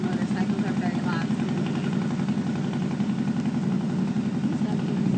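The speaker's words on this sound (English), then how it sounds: "Motorcycles are very loud." A motorcycle engine idles close by in a steady, loud, throbbing rumble that runs unbroken throughout.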